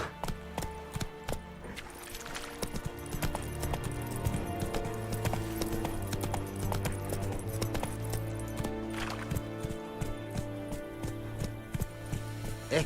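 Hoofbeats of a horse galloping in Witcher 3, a rapid rhythmic clip-clop that runs steadily and close for the whole stretch, with occasional metallic jingles of tack and no voices.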